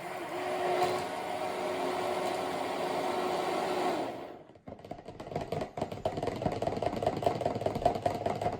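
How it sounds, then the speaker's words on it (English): A handheld stick blender whirs steadily as it mixes maca root powder into lye solution for soap, then shifts to a rougher, choppier churning partway through, close and continuous. "I'm literally just going to stick blend that powder into my lye solution"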